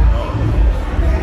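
Dense crowd noise from a club inside a Bangkok shopping mall, a brief muffled burst of many voices and low booming music, loud and close.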